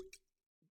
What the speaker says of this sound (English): Solid cork pop.